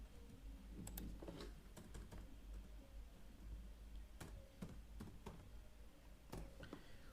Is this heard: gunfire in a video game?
no